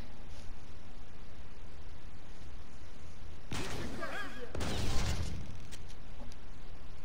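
A loud explosion from the video game Counter Spy, set off by shooting a red object, bursts in as a broad crashing blast with a second burst close after, over steady background noise with a voice faintly present.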